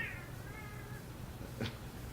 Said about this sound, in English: those are cats